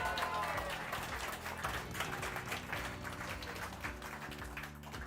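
Audience applause for an award winner at a company awards event, a steady wash of clapping running underneath a speaker's voice.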